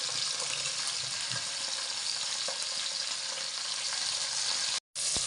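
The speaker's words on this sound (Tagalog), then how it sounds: "Iprito na rin natin ang pambansang isda ng Pilipinas, ang galunggong" Four galunggong fish frying in a pan of hot oil, a steady, dense sizzle that carries on without pause and cuts out briefly near the end.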